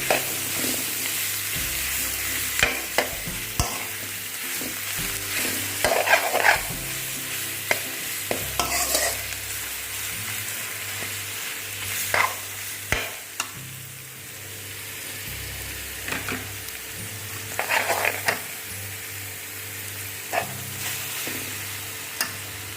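Olives for a sweet pickle fry in a pan over lowered gas, the sizzle running steadily while a utensil stirs and scrapes in repeated sharp strokes throughout, close and fairly loud.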